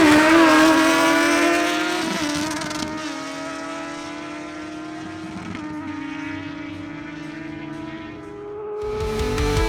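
A Suzuki GSX-S750 and a Kawasaki Z1000SX sport motorcycle drag race, their engines wailing loudly as they accelerate, with rising pitch broken by gear shifts, then fading and revving again at the end.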